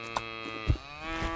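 A cow moos in the farming video game Moonlight Peaks, a single clear, drawn-out low call against a soft humming background.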